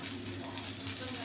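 Shredded cabbage and other vegetables hit hot mustard oil in a pan, giving a steady, loud, close sizzle that stays even throughout, with no voices.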